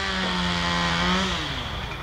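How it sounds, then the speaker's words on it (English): A neighbour's chainsaw cutting trees and logs drones steadily at a distance, its pitch rising and falling slightly as it bites into the wood, with no voices over it. "our neighbor has just started cutting his trees and cutting logs"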